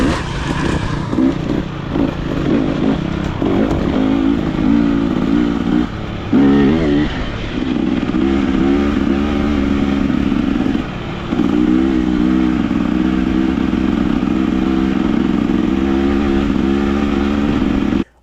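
A KTM 300 XCW two-stroke dirt bike ridden along a road, its engine droning loud and close with steady revs, brief dips and pickups as the throttle changes, plus wind and rattle from the hard-mounted bike.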